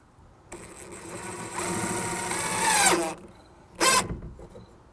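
A power drill drives screws into shed door hardware, whirring in a rising sustained burst that strains and then stops, followed by a short second spin; no talking.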